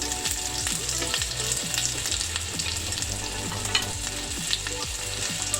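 Veal escalope frying in a pan gives a steady, close sizzle with crackling pops and occasional stirring or scraping sounds throughout, with no voices.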